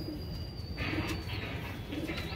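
Red pigeons kept in a loft give a few soft, low coos, faint and close, against a steady background hum.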